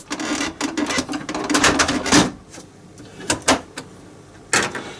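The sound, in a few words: Epson EcoTank printer print head carriage being slid back to the right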